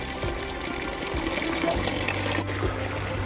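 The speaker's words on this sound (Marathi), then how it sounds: "ह्या मुळांमधून आहे ना पाणी कसं झिरपतं बघा" Water seeps and trickles through exposed tree roots beside a monsoon waterfall, a close, steady babbling flow with small gurgles over a low continuous hum.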